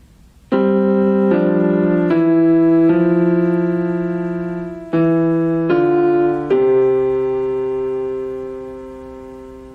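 Both hands playing a simple piano song together during a beginner lesson, sustained chords changing every second or so, close and clear, each struck chord ringing out and fading with no voices.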